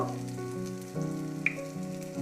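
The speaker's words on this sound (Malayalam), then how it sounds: "ഒനിയൻസും ഒന്ന് ഗോൾഡൻ ബ്രൗൺ ആകുന്നത് വരെ ഒന്ന് ഫ്രൈ ചെയ്തെടുക്കാം" Batter-coated onion rings frying in oil over a medium flame give a steady close sizzle, with a faint tonal hum running underneath and one brief pop.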